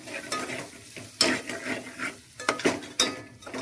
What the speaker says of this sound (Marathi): त्याला पण आता मस्त पैकी मिक्स करून घ्यायचं